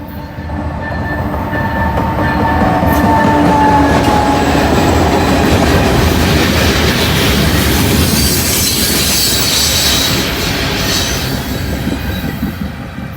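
A short freight train on the main line rolls past close by, loud and continuous, with wheels clicking over rail joints and faint squeals, swelling and then easing toward the end.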